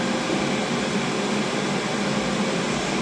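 A Ninja air fryer cooking chicken wings runs with a steady, close, continuous fan whir and airy broadband hiss, unchanging throughout with no voices.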